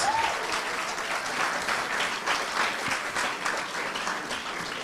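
Audience applause at a startup cohort demo day after a pitch, dense continuous clapping at an even moderate level throughout.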